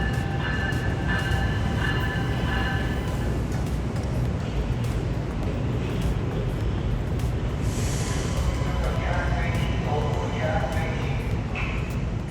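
An Amtrak NextGen Acela high-speed train pulls into a station, rumbling steadily close by with low mechanical drone and faint high squeal, a voice talking over it throughout.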